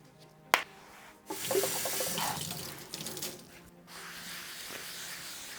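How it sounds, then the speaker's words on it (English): Soap-and-water washing at a kitchen sink after mincing garlic: a sharp knock, then tap water splashing steadily for a few seconds before settling into a softer, continuous trickle, close and fairly quiet, with no talking. "Just a light little wash, a little bit of soap and water does the trick."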